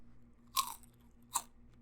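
Two distinct crisp crunches of someone chewing crunchy food, close and sharp, spaced under a second apart against a quiet low hum.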